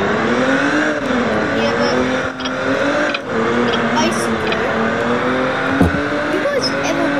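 A car engine revs steadily in the Liberty County video game, a continuous drone with rising and falling pitch sweeps, while someone talks over it throughout.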